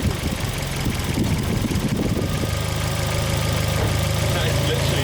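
Idling Volvo S40 engine with a Holset HX40 turbo, steady low rumble with light tapping knocks, close up, with people talking over it at the start.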